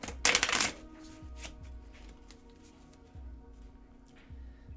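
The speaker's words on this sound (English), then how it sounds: "I'm gonna do just like a couple more shuffles" A deck of cards being shuffled during a solo tabletop game, opening with a loud riffle burst and followed by several softer, quieter card bridges and taps, close up with no voices.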